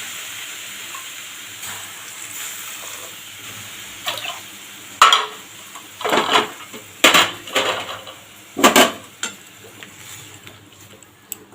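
Water poured into a pot of frying pumpkin greens in a vegetarian kitchen, a steady low sizzle broken by several loud splashing, bubbling bursts with clattering pot sounds, no talking.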